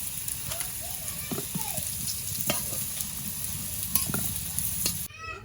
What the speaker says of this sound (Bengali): তো এরকম লাল লাল করে আলুটা ভেজে নেবে।